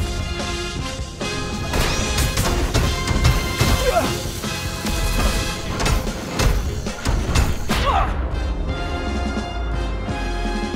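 Heavy smashing and crashing impacts from Grendizer's shoulder boomerang attack in a mecha video game, loud and dense over a continuous roaring, busy game soundscape with repeated thuds and metallic hits throughout.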